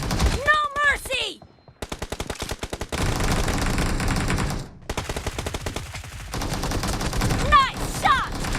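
Rapid automatic gunfire in a PUBG team deathmatch, loud, close bursts of evenly spaced shots with brief pauses between them, while voices with a rising, exclaiming tone cut in at the start and end.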